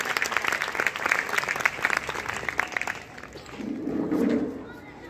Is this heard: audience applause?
yes